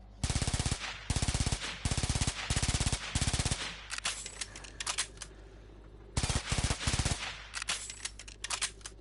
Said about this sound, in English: it sounds like a rapid firing rocket launcher